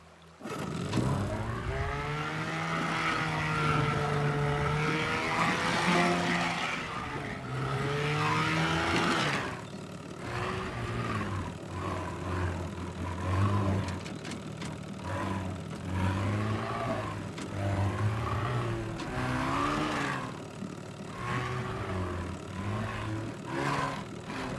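A boat engine in the game Teardown runs steadily, a loud droning roar with shifting pitch as it revs and settles, continuous throughout with no talk.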